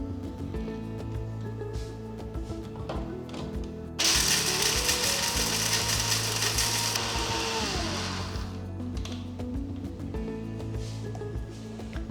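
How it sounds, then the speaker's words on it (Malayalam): A mixer grinder whirs loudly for about four seconds, grinding dry almonds into powder, then winds down, with steady background music playing before, during and after. "എടുത്തു വെച്ചേക്കുന്ന ബദാം നന്നായിട്ടൊന്ന് അരച്ചെടുക്കണം"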